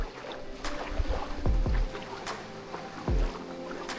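A canoe or small boat approaching on a river near Kitulgala, with several water splashes and thuds over a steady background of flowing water and wind, all at a middle distance.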